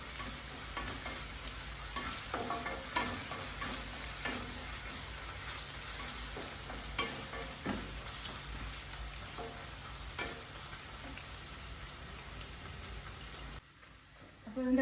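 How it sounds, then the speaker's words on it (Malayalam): Ginger garlic paste being stirred as it fries in a pan, with a steady close sizzle and crackle and scattered spoon scrapes running almost unbroken before a sudden drop near the end. "അതിൻ്റെ പച്ചമണം ഒന്ന് മാറുന്നവരെ ഒന്ന് ഇളക്കി കൊടുക്കാം"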